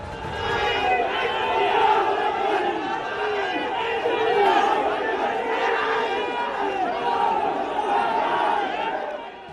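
A large crowd of protesting farmers marches forward, chanting slogans in a dense, continuous roar of many voices that swells and recedes over the whole stretch.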